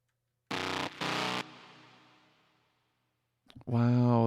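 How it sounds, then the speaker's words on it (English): Two short distorted bass stabs from an electronic track, followed by a long reverb tail from Tal Reverb 4 that slowly fades out. A voice starts speaking just after the tail dies away. "Wow, the reverb."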